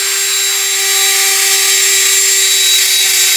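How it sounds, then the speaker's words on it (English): Power drill boring small holes with a tiny bit, a steady high-pitched whine with a constant tone, loud and close, running unbroken with no talking. "And then start drilling."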